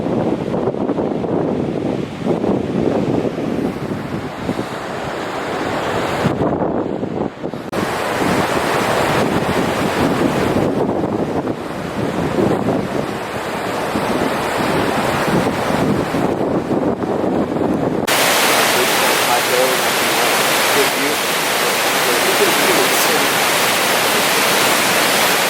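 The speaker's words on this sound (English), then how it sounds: "Beautiful little river down there." A small river in Kings Canyon rushes steadily and loudly, a dense broadband wash that holds for the whole stretch with wind buffeting the microphone and no voices.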